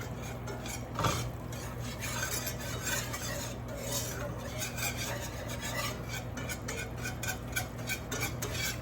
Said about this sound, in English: So you keep that whisk, if you have one, moving constantly.